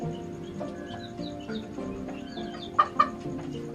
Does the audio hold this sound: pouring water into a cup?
no